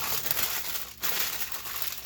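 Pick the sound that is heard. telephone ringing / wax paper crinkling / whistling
wax paper crinkling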